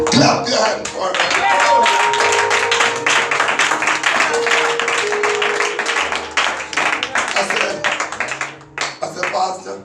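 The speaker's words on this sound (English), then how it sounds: "Clap your hand for me." Church congregation clapping hands in a quick rhythm with singing and voices over it, the clapping loud and continuous before thinning near the end.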